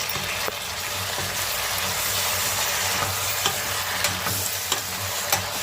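Leafy greens are stirred in a frying pan over a continuous loud sizzle, with scattered light scrapes and clicks of the spoon through the mix and no talking.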